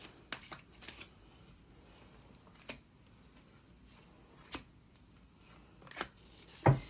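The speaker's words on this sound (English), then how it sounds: "I like to shuffle in front of you." Soft riffling and papery flicks of tarot or oracle cards being shuffled, in intermittent bursts over a quiet background, ending with a sharper snap.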